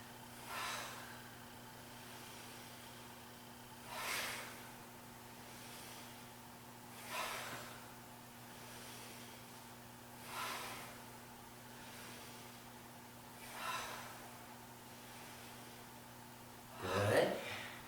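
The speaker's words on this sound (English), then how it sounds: "Big exhales, cleansing the body." Six big cleansing exhales during a yoga session, long breathy whooshes spaced about three seconds apart against a quiet room hum, the last one louder and closest.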